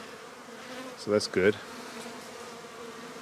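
Honeybees hum faintly and steadily around an open hive, a soft continuous buzz with a brief spoken remark in the middle.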